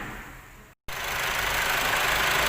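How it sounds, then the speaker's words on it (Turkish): Car engine being started and settling into a steady idle during an engine flush after fresh antifreeze was added, a constant close mechanical drone that follows a brief gap. "Şimdi antifrizimizi de doldurup marşa basacağız ve aracımızı 15-20 dakika kadar çalıştıracağız."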